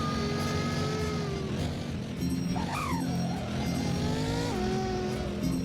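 A Bugatti Chiron in the Roblox Driving Empire racing game holds a loud, steady engine drone that shifts pitch as it speeds up and slows, with a brief tire-squeal sweep partway through.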